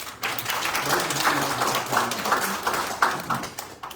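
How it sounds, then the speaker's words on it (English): Scattered clapping from a modest audience at a city commission meeting, a few minutes of dense hand claps rising and dipping over about four seconds, fairly close. "All right, but a round of applause for them."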